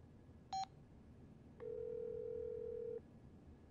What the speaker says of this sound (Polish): Wykonam pewien telefon, więc proszę o ciszę.